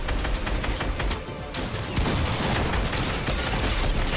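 Dense, continuous bursts of rapid gunfire from turrets in the video game Fortnite, loud and close, rattling without pause across the whole stretch.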